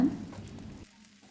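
Barnyard millet dosa sizzles on a hot pan with chutney spread over the top, a soft frying crackle that fades after about a second into near quiet.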